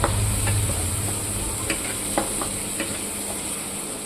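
Tomato and onion stirred together in a pan for a Kathiyawadi-style capsicum curry, a steady close sizzle with soft scraping strokes and occasional clicks of the spoon, no voices.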